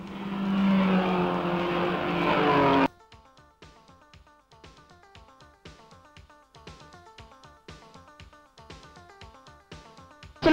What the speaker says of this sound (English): Three cars, two TCs and a TD swinging into the bottom corner here.